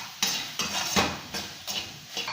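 A utensil stirs ridge gourd pieces frying in a pan, making about five rhythmic scraping strokes against the metal, close and clear over a faint background sizzle, with no talking.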